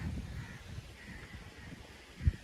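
Crows caw in a village under cloudy, rainy skies, a faint distant chorus of calls over a low rumbling background, with a brief louder thump near the end.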